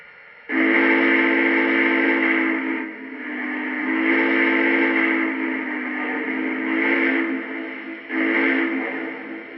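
A model train steam whistle on a Lionel C&O F19 blows in long sustained blasts with brief dips between them, loud and clear with no talking.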